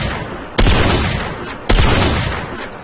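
Two sharp, loud gunshots ring out about a second apart in the MTA DayZ PvP game, each a booming crack that decays slowly into the background.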